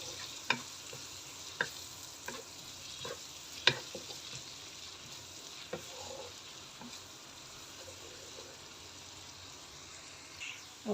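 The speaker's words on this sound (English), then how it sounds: "we're going to fry the onions until it becomes translucent and slightly golden" Onions fry in a pan with a soft, steady sizzle, quiet and close, punctuated by a few sharp clicks and scrapes of stirring.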